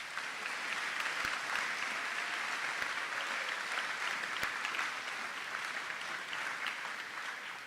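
Sustained audience applause for award recipients at a senior awards ceremony, a dense, even roar of many hands clapping continuously without pause, with a few sharper claps standing out.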